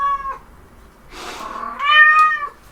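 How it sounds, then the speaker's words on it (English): A female cat in heat meows loudly and close, a few drawn-out wavering yowls with short pauses between them, and no one talking. "I'm sorry if you can hear Nala, she is in heat again"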